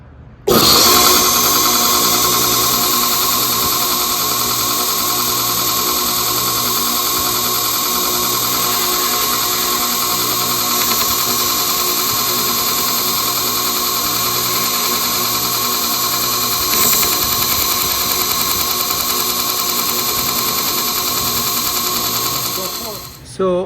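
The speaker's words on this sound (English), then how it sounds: "I'm going to use the drill bit as a guide to grind the radius" A loud, steady high-pitched whine of a power tool grinding aluminum against a drill bit guide runs continuously for the whole stretch, then cuts off at the end.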